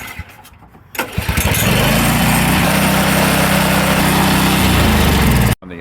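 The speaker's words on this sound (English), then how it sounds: "Manually choke it. Fuel valve on, engine on." A Honda HS35 snowblower, still missing its choke piece, cranks and catches on a manual choke, then its small engine roars into a steady, loud, close high-revving run before cutting off abruptly.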